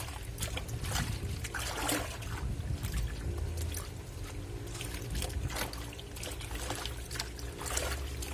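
A Black&Decker washing machine, fairly full of school uniforms, runs a normal wash cycle without turbo, giving a steady close churning and sloshing of water with repeated splashy surges throughout, no talk.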